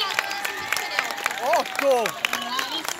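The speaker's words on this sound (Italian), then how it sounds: "facciamogli un applauso insieme" Applause from an audience at a comics convention, steady clapping from a crowd nearby under a loud announcer voice, with some whistles and cheering mixed in.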